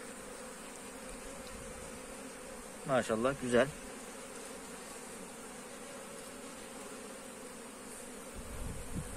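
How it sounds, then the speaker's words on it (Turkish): Honeybees, including drones, buzzing around an open hive frame fitted for pollen trapping, a soft steady hum with a brief louder buzz from a bee passing close, and a person speaking briefly. "bizim erkek arılarımız"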